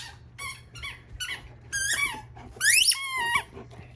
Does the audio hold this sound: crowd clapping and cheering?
no